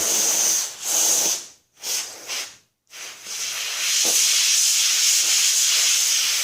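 Compressed air sprays in loud, close hissing bursts onto a stuck two-piece fishing rod, first in short spurts with brief gaps, then as a steady continuous blast.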